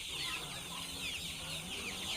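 Sonali super hybrid chickens cluck and chatter steadily in a dense, continuous flock noise, fairly close, with no talking.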